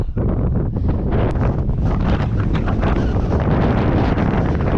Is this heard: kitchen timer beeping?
no